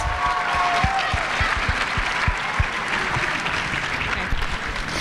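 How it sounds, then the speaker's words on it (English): Steady, dense applause fills a school arts showcase as the audience claps for a student band, a continuous wash of many hands with no voices. "give another round of applause for the Whams band"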